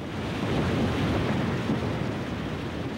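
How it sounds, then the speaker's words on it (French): Strong wind during a sandstorm roars steadily and close, a dense broadband rush with mic buffeting and no voices, holding at an even level throughout. "Le vent est très fort et ça va empirer."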